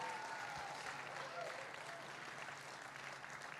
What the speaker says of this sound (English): let's give a warm round of applause for all the Techstars companies